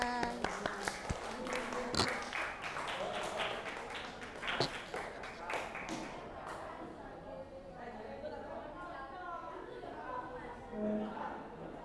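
Classroom of students clapping together, a dense burst of applause in the first few seconds that thins into scattered claps under children's chatter and a teacher's voice.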